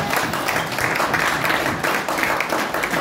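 A church congregation applauds and acclaims the Lord during a French-language service, with steady, sustained clapping throughout and voices mixed in.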